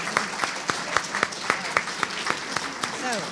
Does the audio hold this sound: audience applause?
yes